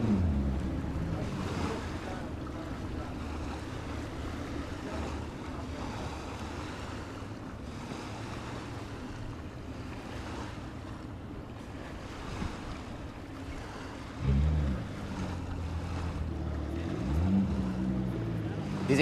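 XCAT racing powerboats run on open water during the UIM Hangzhou Grand Prix, with a continuous wash of surf and wind under commentary and a brief engine surge near the end.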